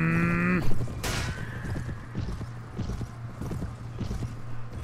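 Horse hooves clip-clopping in a medieval strategy video game, a rapid irregular run of soft hoof beats following a brief tonal game sound, with battle ambience in the background.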